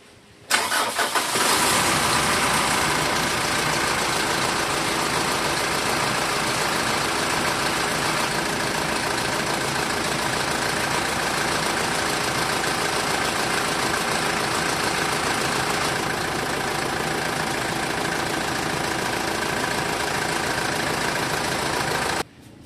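A Mitsubishi Montero Sport Gen2 engine, just after a throttle body cleaning, cranks and catches within the first second, then settles into a steady, loud idle that continues to the end.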